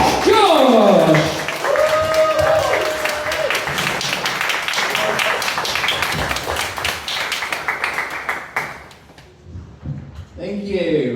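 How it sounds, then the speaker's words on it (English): An audience at a live comedy show bursts into loud, sustained applause and cheering for the next act. It thins out over several seconds as a voice begins speaking near the end. "Give me a big roaring round of applause for your next act, Posh Josh!"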